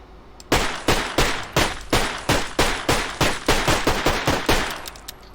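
Rapid gunfire in an Unreal Strike first-person shooter game, about a dozen loud evenly spaced shots in a quick rhythmic burst, close and punchy, no voices.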